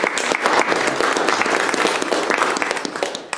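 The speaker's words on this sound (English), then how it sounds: "You get a big round of applause for helping," A live audience claps and cheers in dense, sustained applause for a volunteer at a magic comedy show, the clapping steady and loud throughout with no voices over it.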